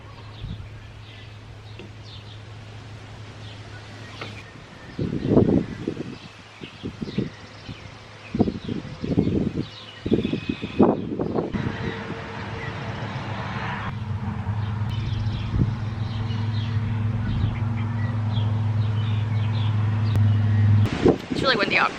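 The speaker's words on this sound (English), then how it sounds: "It's really windy out." Strong wind buffets a handheld microphone outdoors, producing low rumbling gusts and bursts that swell and fade over about twenty seconds, with rustling and a faint bird call in the background.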